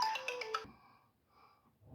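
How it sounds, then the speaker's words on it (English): A phone ringtone plays a short bright melodic burst of tones, fairly close, then cuts off and leaves faint fading echoes and near silence. "Phone rang."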